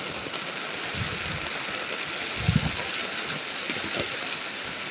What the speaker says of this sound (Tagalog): Nag-uulan ng malakas,